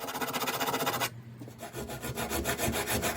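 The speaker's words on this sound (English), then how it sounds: "I need to cut across there and then deburr this and put a bit of paint on." A cut across a Land Rover Discovery 2 air intake panel, made with a saw: a steady rasping rub, then a short pause near the middle, then the rough back-and-forth strokes start up again, close and loud.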